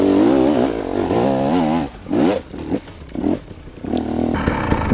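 A motorcycle climbing a ramp during a riding course, its engine revving loud and close with rising and falling pitch, then easing off into choppy bursts of throttle before a steadier drone returns.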